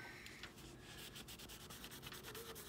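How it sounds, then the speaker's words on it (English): A magic eraser rubs marker off a metal workpiece on a lathe, a quiet, steady scrubbing made of quick repeated strokes with no talk. "nice magic eraser. Erases it off so your lathe stays clean."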